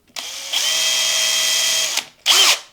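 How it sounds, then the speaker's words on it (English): A power drill bores into the headstock of a Sire Larry Carlton J5 guitar, a loud close whine rising as the motor spins up, running steadily, stopping, then giving one short final burst. "In goes the drill bit."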